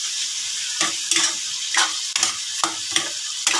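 Pork offal menudo of liver and gizzards sizzling in a pan while being stirred, with a constant close frying hiss and regular scraping strokes roughly every half second.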